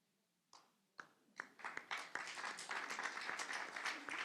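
An audience at a community gathering starts with a few scattered claps that quickly build into dense, sustained applause, moderately distant and filling the room.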